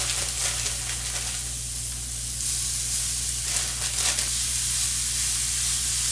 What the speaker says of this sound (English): we're going to put in our garlic, and we're going to saute that for a little bit